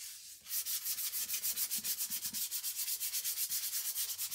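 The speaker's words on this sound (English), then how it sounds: "It's like 400 and I'm just lightly sanding" Rapid, even back-and-forth scratching of 400-grit sandpaper in light hand sanding, light and rhythmic, continuing steadily with no voices.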